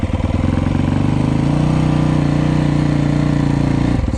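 A Yamaha YZ450f dirt bike engine runs steadily in the snow, a loud, close, continuous four-stroke drone with a slight rise in pitch midway and a sudden cut near the end.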